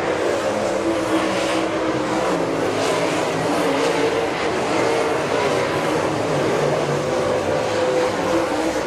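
Southern All Stars race cars roar past as they complete a lap at Southern Raceway, a loud, continuous engine drone that stays close and steady throughout.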